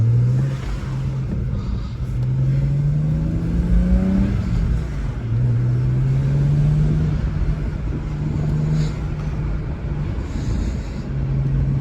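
A 2007 BMW 335xi E90 twin-turbo sedan with a cold air intake drones steadily from inside the cabin, its engine note rising and falling through gear changes over constant road and wind noise.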